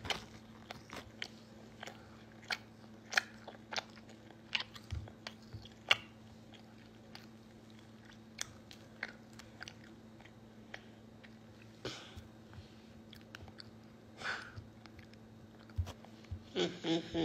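A person bites and chews khinkali dumplings and pomegranate seeds up close, with sparse wet crunching and smacking bites scattered over a quiet steady background hum.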